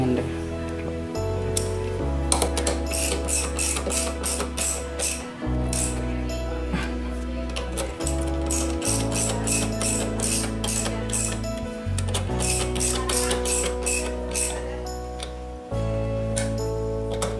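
Steady clicking ratchet wrench tightening the bolts of a wheel disc cover on a Vespa Classic scooter, a continuous close ticking with rhythmic pauses and faint metallic clinks.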